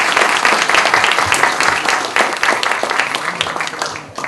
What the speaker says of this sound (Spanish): el doctor Michel Tarrufo, a quien le recibimos con un fuerte aplauso.